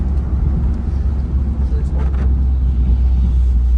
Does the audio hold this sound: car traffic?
yes